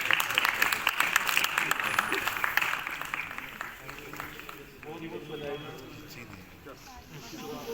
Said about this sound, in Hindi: दूसरों के लिए तालियां बजाइए आप